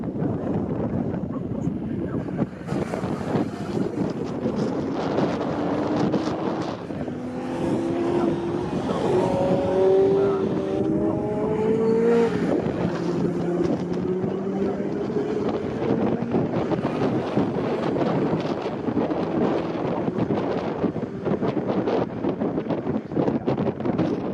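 1970s racing cars compete at Snetterton circuit in an Equipe 70s race, their engines droning and rising in pitch as cars pass through the middle stretch, under steady wind buffeting on the microphone.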